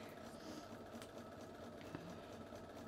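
A sewing machine stitches a New York Beauty quilt block, its steady mechanical hum running continuously at low level with no pauses.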